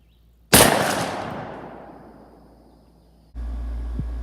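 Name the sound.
12 gauge shotgun firing Federal FliteControl 00 buckshot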